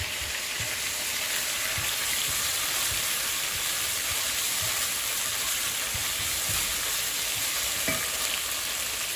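Ground meat for kufteh ghelgheli sizzles and spits steadily in a hot frying pan, a dense continuous crackle with a few faint scraping stirs, close up and no voices.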